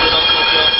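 An ex-Stuttgart GT4 tram slows to a stop with its wheels squealing in a loud, sustained, steady metallic screech that fills the whole moment.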